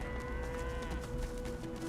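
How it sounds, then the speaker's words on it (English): A cow moos in a farm setting within the video game Divinity Original Sin 2, a single sustained low lowing call with harmonic tones that fills the short moment on its own. "gonna need you to talk to the cow, mate"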